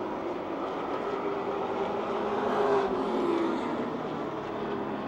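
Monarch Oil Chevrolet number 60 race car from the Benz Motorsports stable, driven by Tommy Beck, roaring around the Motordrome Speedway oval, a sustained engine drone that swells slightly as it passes mid-clip, with no talk.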